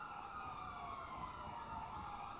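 Police sirens in GTA V roleplay, several units' wails blending into a constant, faint wavering tone beneath a dense wash of traffic and street noise, with no pauses throughout.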